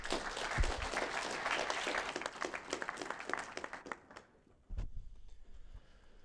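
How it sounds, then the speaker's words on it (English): A conference audience at a programming languages research session gives a speaker a dense round of applause that thins out and fades, with a few scattered claps and a thump near the end. "let's give our speaker another round of applause"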